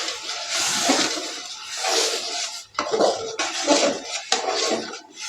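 A spoon stirs and scrapes through watery masala curry in a metal kadai, making repeated sloshing, rasping strokes with metallic clinks, loud and close without talk.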